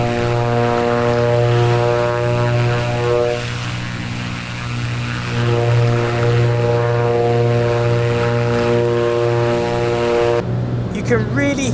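Piston engines of a Black Square Piston Duke twin-engine aircraft in a flight simulator game, a loud steady propeller drone with strong harmonic hum that holds throughout, someone talking over it, and a brief clatter near the end.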